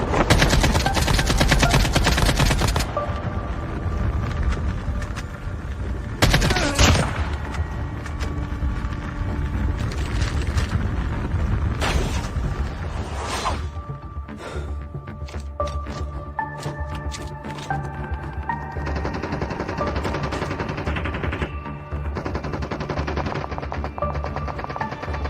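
Gunfire in Call of Duty Mobile comes as bursts of rapid automatic shots, loud at the start and then recurring through a long stretch of game sound with tonal effects.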